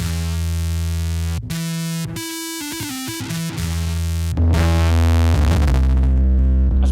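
Thick, distorted electric guitar chords through the free GuitarOx amp plugin ring out loud and sustained, with a few abrupt stops and restarts before a final heavy chord swells.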